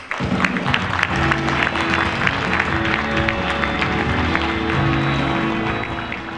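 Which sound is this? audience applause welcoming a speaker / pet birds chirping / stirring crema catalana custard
audience applause welcoming a speaker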